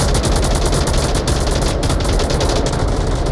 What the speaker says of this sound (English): Warthug, Sims, and Mean Machine, both with LMGs shooting across.